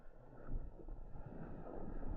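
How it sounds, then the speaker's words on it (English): Wind gusts buffet the microphone outdoors on a morning walk in Innisfail, Australia, giving a low, rumbling roar that swells and eases without a break. "It's getting a bit windy."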